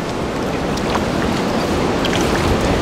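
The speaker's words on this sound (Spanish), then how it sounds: "Uy, ella viene a visitarnos, el mar." Sea waves wash up on the beach at El Espino in El Salvador, a steady, loud, broadband rushing of surf with no pauses and no voices.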